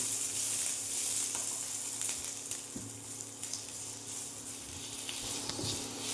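Sliced onions frying gently in ghee over low heat in a pan, giving a soft, steady sizzle with faint stirring scrapes, close up and continuous with no talking.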